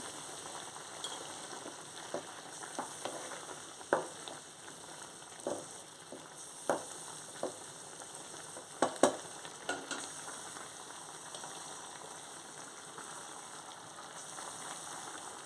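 Ridge gourd and bean seed curry simmers and fries in a pan, a soft steady sizzle with scattered small pops and crackles, fairly quiet and close.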